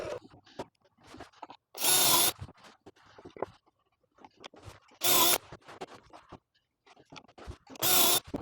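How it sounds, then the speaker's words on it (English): A power drill bores pocket holes in wood in three short whirring bursts, with quiet clatter and handling noise of pieces being moved between them in a garage workshop. "now that I've got the pocket holes drilled and my little piece of 2x2"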